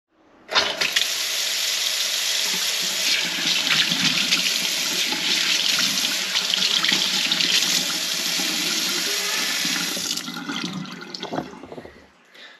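Water gushes steadily from a tap in an 1880 house, a continuous broadband hiss that starts abruptly, runs for about ten seconds, then tapers off with a few small clunks.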